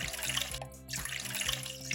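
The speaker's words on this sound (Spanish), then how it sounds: "Mientras tanto, ponemos el agua en un recipiente" Water pours steadily into a bowl in a kitchen while making chocolate eclairs, a close, continuous splashing trickle with a brief break in the middle.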